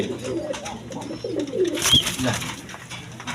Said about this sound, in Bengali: এইখানে এক প্যার রেশারের বেবি কবুতর আছে দেখেন কোয়ালিটি সম্পন্ন কবুতর রেশারের বেবি